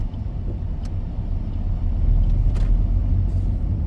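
A car engine rumbles steadily from inside the vehicle, the low drone shifting slightly as it slows, with no one talking.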